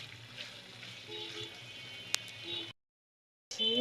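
Chickpeas cooking in a pan for an Iftar dish, a steady close sizzle with a brief sharp clink partway through, then a short silent gap before the frying resumes.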